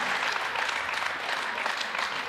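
Steady applause from a pool hall crowd at the 2024 US Open Pool Championship as a 9-ball drops, the dense clapping running loud and unbroken throughout.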